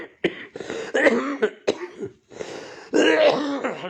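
A person with a cough and cold coughs and clears their throat repeatedly, several harsh close bursts with brief pauses between them.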